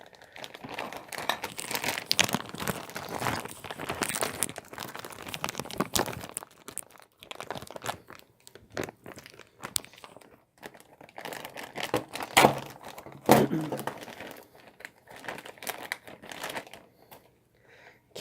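Plastic and cardboard packaging of a KLM Boeing 777 model airplane is torn open by hand without scissors, giving steady crinkling and crunching with a few sharper tearing bursts, close up, and no talking.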